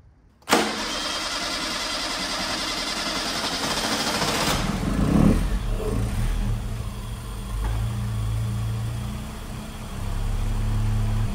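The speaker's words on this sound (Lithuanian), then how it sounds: "Galėtų dirbti šiek tiek gražiau, bet variklis dirba." A Seat Malaga car engine cranks and catches, then runs steadily at a rough, uneven idle with a low rumble, close up and continuous with no talking.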